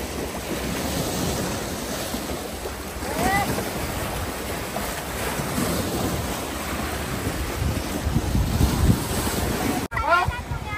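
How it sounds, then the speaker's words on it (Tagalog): Strong sea waves break at Cheung Sha Beach on Lantau Island, a constant loud wash of surf mixed with heavy wind buffeting the microphone, while voices speak faintly now and then. "Wave is very strong."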